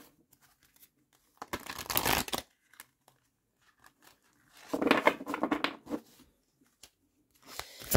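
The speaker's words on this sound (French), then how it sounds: "on commence à tirer la première carte" Tarot cards being shuffled and drawn for a monthly reading, two separate bursts of papery riffling and card handling, close and fairly quiet, with near silence between them.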